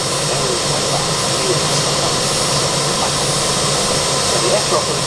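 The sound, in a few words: aircraft engine at an air show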